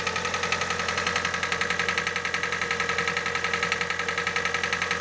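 A Hyundai i40 engine with a worn piston group runs steadily, producing a dense, rapid metallic knocking over a continuous mid-pitched engine drone. The sound is close and even throughout, with no talk.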